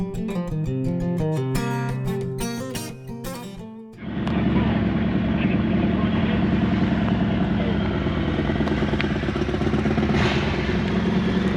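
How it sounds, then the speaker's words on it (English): Supercharged Kawasaki ZH2 with a 1000cc four-cylinder engine, a loud, steady engine drone close by that begins abruptly after a stretch of music and holds constant to the end. "That's a Kawasaki ZH2 supercharged."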